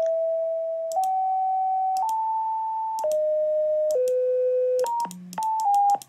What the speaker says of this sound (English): that's how to generate random sound waves in pure data